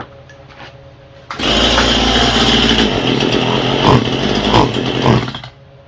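A Stihl MS171 chainsaw on choke bursts from a low idle into a loud, rough, buzzing run lasting several seconds, then drops back down, heard up close with no talking.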